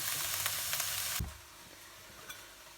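Cantonese fried rice with cut sausage sizzles loudly over high heat in a pan, a steady close frying hiss that drops sharply to a softer sizzle partway through.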